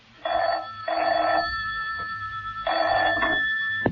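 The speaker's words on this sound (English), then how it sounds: "John Steed's telephone rang" An old-style telephone bell rings in an audio drama, with three loud, close bursts of ringing separated by short pauses and no voices.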